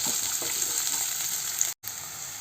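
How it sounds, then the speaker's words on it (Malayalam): Chopped onions and curry leaves sautéing in a hot pan give a steady, close sizzle that runs throughout with a brief drop-out near the end. "നമുക്കിതിലേക്ക് അരിഞ്ഞു വെച്ചിരിക്കുന്ന സവാളയും അതുപോലെ തന്നെ കുറച്ച് കറിവേപ്പിലയും ചേർത്ത് കൊടുക്കാം"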